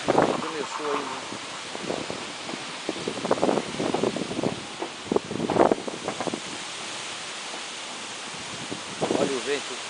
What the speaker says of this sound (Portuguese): Olha o vento, está dobrando a copa das árvores.